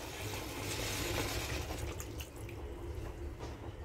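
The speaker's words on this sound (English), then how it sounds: "First thing I'm going to add is water." Water poured into a cooking pot for a Calabar dish, a short steady splashing pour close by with no talk.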